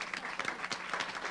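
Brief burst of audience applause sending off the inauguration panel at a legislative forum on child and adolescent sexual violence, a steady patter of many hands at moderate level.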